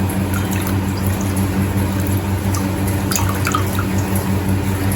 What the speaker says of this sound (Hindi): साफ पानी में से निकाल के और धो देती हूँ